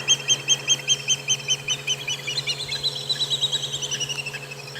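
Nocturnal birds call at dusk on a safari, a rapid repeated high piping series that slides downward, steady and moderately near over a low constant hum, with no voices.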